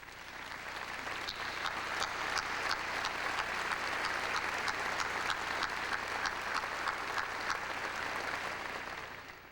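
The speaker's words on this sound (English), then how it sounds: "I ask that our graduates give them a big round of applause too" Graduates at a 2003 Bellbrook, Ohio high school graduation give a long round of applause, with thick crowd clapping swelling, holding steady and fading near the end, and a few sharper individual claps standing out.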